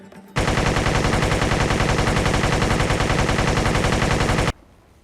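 Sustained automatic gunfire from a weapon in the video game Wolfenstein: The New Order, a loud, rapid, unbroken burst lasting about four seconds before cutting off abruptly.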